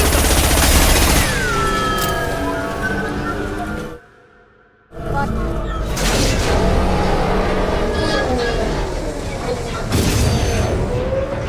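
Sustained gunfire in Mass Effect 2 as the squad fights off an advancing wave: dense, rapid bursts of shots with mechanical clatter, a brief near-silent gap midway, then steady firing resumes under occasional shouted voices.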